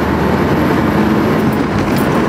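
Subaru Impreza WRX turbo engine (remapped to 265 hp) under hard acceleration, a loud dense roar with a rushing intake whoosh, continuous and close throughout.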